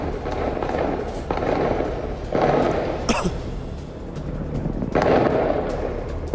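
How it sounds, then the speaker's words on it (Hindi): Gunfire from Hamas fighters shooting at Israeli troops in Gaza's Jabalya camp comes as a few irregular, distant sharp cracks and bursts over a constant rough, noisy background. "ये हमास के लड़ाकों की आईडीएफ के ऊपर फायरिंग की तस्वीरें, उसी की आवाज सुन सकते हैं आप।"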